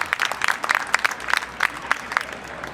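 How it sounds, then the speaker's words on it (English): An audience claps for a speaker at a Second Amendment event in Phoenix, Arizona, producing sparse, moderate applause from a small crowd, with patchy individual claps heard fairly close, over a short stretch. "Huge round of applause for Simmone Park."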